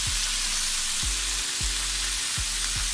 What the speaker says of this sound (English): Give this a little stir.